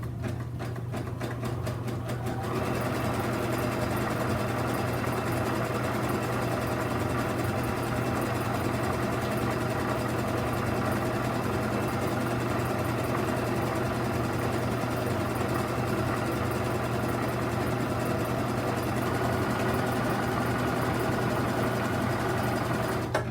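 Sewing machine stitching a zipper into a cosmetic bag under the presser foot: a few seconds of rapid stitching clatter, then a long, even motor hum with fine mechanical ticking running steadily for about twenty seconds.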